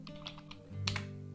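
Computer keyboard typing while coding in Android Studio: a few scattered keystrokes, then a quick louder cluster of taps near the end, close and fairly quiet.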